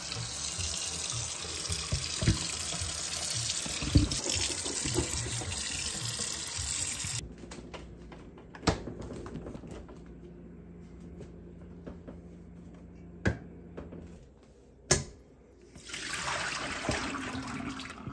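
Running tap water rinses salted meat that had been buried, a steady close rush into the sink that cuts off about seven seconds in, followed by a few short splashes and clunks before the water runs again near the end.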